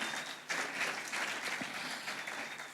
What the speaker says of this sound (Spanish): Vamos a darle un fuerte y un gran aplauso a la palabra del Señor.